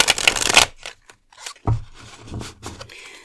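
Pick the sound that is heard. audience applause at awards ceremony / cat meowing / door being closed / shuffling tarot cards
shuffling tarot cards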